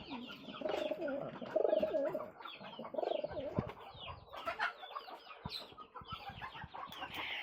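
Pigeons coo softly among clucking chickens in a village goat and poultry shed, a continuous layered mix of low murmuring coos and hen calls with no talking.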